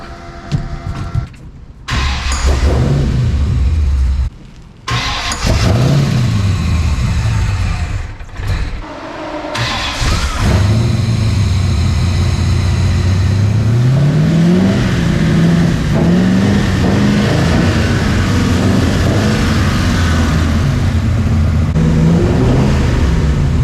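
A big 6.0 LS V8 engine in a 1963 International Harvester Travelall cranks, fires up and roars, then revs repeatedly in rising and falling swells, loud and close, settling into a deep rumbling idle.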